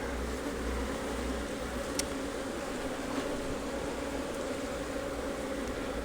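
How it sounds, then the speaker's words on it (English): Honey bees crowding a hive frame during an inspection give a continuous, even buzzing hum, fairly quiet and steady, with no talking. "There's so many bees on it, I doubt I'll be able to see anything"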